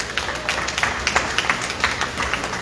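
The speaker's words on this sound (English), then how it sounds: "Let's give him another round of applause." Audience at a Pan African Festival event at the Palms Club in San Fernando gives a round of applause after a speaker's book talk, scattered uneven clapping from a modest crowd.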